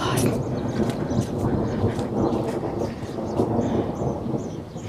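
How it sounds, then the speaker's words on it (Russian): Warm summer rain falls steadily outdoors near the sea, with rolling thunder rumbling throughout; a continuous wash of rain noise under low booming thunder, no pauses. "Летний дождь."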